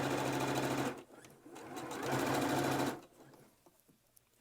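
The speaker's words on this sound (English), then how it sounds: "I'm going to sew all the way to the end." A sewing machine stitches a fabric mask with a filter opening in two quick, loud whirring runs separated by a brief pause, then stops, with faint sounds after.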